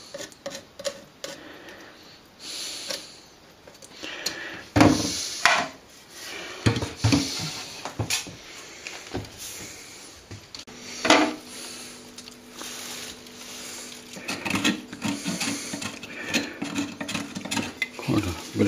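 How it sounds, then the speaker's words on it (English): A knife scraping a thick layer off a cornice molding, giving irregular short scrapes and clicks, some sharp and close, others faint, with pauses between strokes. "You can use a knife, but don't scrape too hard with it."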